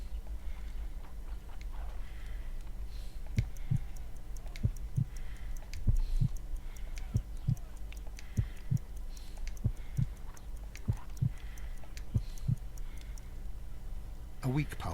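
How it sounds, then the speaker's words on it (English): A slow, weak heartbeat from the video game Sherlock Holmes Crimes & Punishments thumps steadily at roughly 50 beats per minute, soft low pulses over a murky ambient hum. "I need to concentrate and count the heartbeats."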